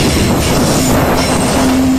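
Indian Railways Tejas express train running steadily on the track, a loud continuous rumble of wheels and carriages with a faint metallic squeal, close and sustained throughout, with no voices.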